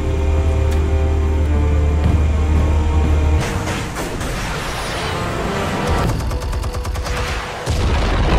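Explosives detonate in Batman: The Telltale Series video game, with a heavy low rumble giving way to rolling blasts and crackling debris, then a sharp burst of rapid impacts near the end, loud and close.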